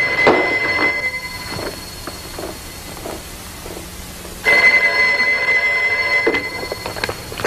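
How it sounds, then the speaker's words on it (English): Old-fashioned telephone bell ringing in a radio detective drama, a sustained metallic ring, a pause, then a second ring, loud and close with no talk over it. "Richard, the telephone's ringing."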